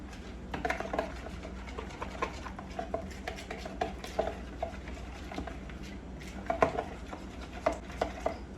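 Food being stirred in a pot after salt is added, with a steady series of close, light scrapes and clinks of a utensil against the pot over a low background hum.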